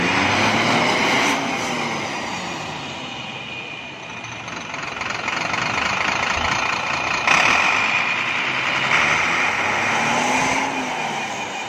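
A broken-down truck's engine is cranked with the starter, a continuous close mechanical whir and drone with uneven rising and falling pitch, steady and loud throughout.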